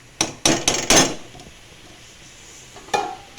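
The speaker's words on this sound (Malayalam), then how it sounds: "നന്നായിട്ട് ഇളക്കി കൊടുക്കണം." Beetroot thoran being stirred in a pan, giving a quick run of four sharp metallic clanks and scrapes of the spoon against the pan, a quiet pause, then one more clank.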